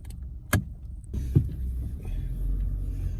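Steady low rumble inside a moving car, with a couple of sharp thuds near the start and no talking.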